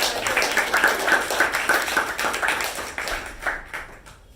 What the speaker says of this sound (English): Once around, a huge round of applause for Toastmaster Gajendra.